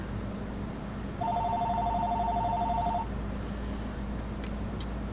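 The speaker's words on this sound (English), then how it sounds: "you'll have to hear the phone ring a few times, and probably the answering machine" A telephone rings once with a steady two-tone electronic trill lasting about two seconds over a low room hum, followed by a few faint clicks.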